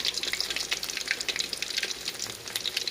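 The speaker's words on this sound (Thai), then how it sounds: "ทอดหมูหั่นเป็นชิ้นๆแล้วก็ซุปแป้งมาทอด" Sliced pork and battered pieces crackle and sizzle in hot oil, a dense, steady bubbling with bright popping spatters and no talking.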